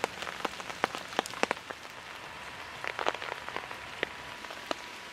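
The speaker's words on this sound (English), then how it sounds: "The rain kept up, but it was only going to be a shower" A light rain shower falling outdoors around a lake, with scattered drops pattering sharply on nearby surfaces over a soft, steady wash of rain.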